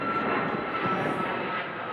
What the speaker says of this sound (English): Hold up the deportation plane